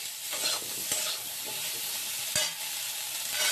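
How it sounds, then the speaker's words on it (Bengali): Vegetables for a vegetarian khichuri sizzle and fry with turmeric and salt in a pan, with continuous crackling and occasional scrapes and stirs, close and steady. "সবজিটা ভাজা ভাজা করে নিচ্ছি,"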